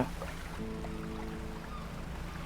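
Fishing boat engine in the video game Dredge, a quiet low motor hum that starts up and settles into a steady drone over lapping water, heard faintly without talking.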